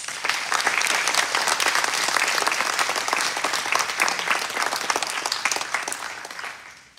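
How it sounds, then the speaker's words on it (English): Sustained applause from a graduation ceremony audience honoring graduates, steady dense clapping throughout that fades slightly at the end. "can we go ahead and give them a round of applause?"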